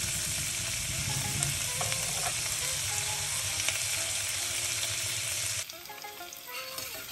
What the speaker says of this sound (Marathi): कांदा आपण जरासा परतून घेतलाय.